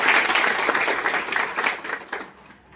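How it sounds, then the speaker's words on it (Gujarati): An audience at a network marketing event breaks into loud, dense applause, many hands clapping together close by before the sound tapers off at the end. "દિલથી તાળી પાડો"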